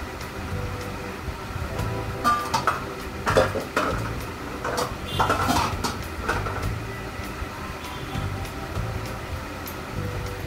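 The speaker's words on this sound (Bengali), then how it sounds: "এবার ফোড়নের জন্য আরেকটা কড়াই বসাই দিলাম।" A kadai (wok) handled and set down on a stove while cooking masoor dal, a run of close metallic clanks and scrapes of pots and utensils, irregular knocks clustered in the middle over a low steady room hum.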